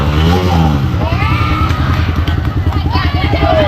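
A motorcycle engine revs hard and close up, roaring and climbing in pitch as it pulls a wheelie, with people talking over it.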